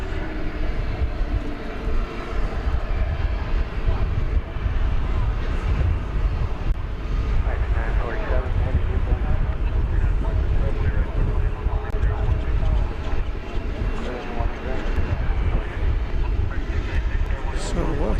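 An American Airlines jet takes off from runway 18 Left at DFW Airport on a hot day, a loud sustained engine roar and rumble throughout, with talk over it.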